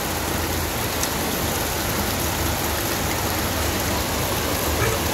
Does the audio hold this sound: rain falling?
yes